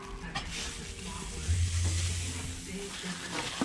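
Big chuck steaks go onto a grill heated to 400 degrees and start sizzling, a steady close hiss with a faint low rumble beneath and small crackles scattered through.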